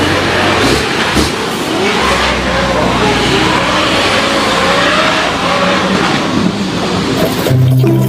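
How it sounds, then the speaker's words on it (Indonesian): A toy race car gives off a loud, continuous engine-revving whine that holds steady for several seconds and shifts near the end. "Oke, ada mobil balap."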